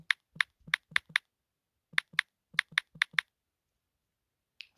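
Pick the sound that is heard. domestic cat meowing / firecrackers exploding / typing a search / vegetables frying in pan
typing a search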